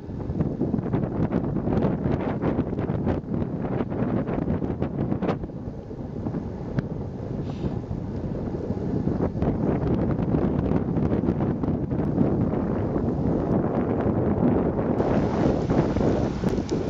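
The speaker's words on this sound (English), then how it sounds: "It's windy" Gusty wind blasts against the microphone for a long stretch, a loud, rough low roar that dips briefly and then surges back.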